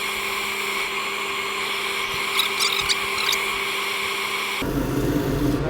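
Green elm pot spinning on a wood lathe while being sanded with 180 grit abrasive, a steady droning whir with a constant hum and light scratchy friction, alone, ending with a shift in tone.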